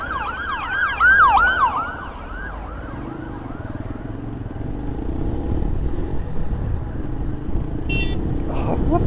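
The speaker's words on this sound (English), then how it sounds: "That's where the ambulance is now coming from, the hospital" An ambulance siren wails close by as the vehicle leaves a hospital, its rising and falling tone fading within a few seconds, then giving way to a steady rumble of a motorcycle ride and passing traffic.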